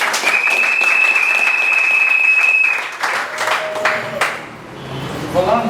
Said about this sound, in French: Applaudissons encore un peu très fort.